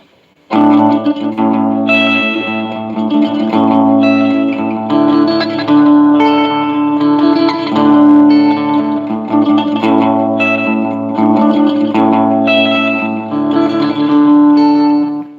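An electric guitar plays a steady run of notes with no digital delay effect, dry and sustained, loud and close with no echo trailing after each note.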